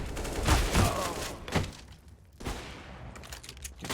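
Gunfire in a Counter-Strike: Global Offensive match between forZe and Gambit cracks out in several close bursts, loud volleys with a brief lull before more shots.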